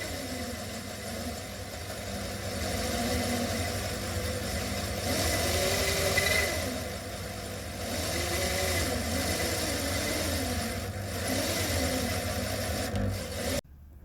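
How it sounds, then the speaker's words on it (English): A machine drills through a Winchester 1892 rifle barrel from the chamber end, a steady motor-like drone with slow wavering pitch swells, running continuously near and moderately loud before cutting off abruptly at the end. "So here we are drilling from the chamber end now."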